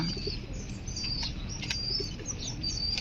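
A blue Shirazi pigeon in a loft, with wings flapping and soft coos and chirps from nearby birds over a steady low background hum, close and moderately loud, no talking.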